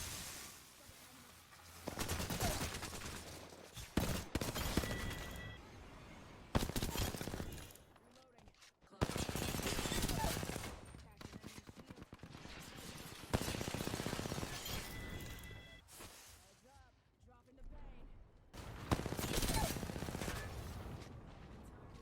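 Gunfire in the video game Apex Legends, played on PlayStation 5, crackles in repeated rapid automatic bursts separated by short pauses, loud and close, with a voice talking over parts of it.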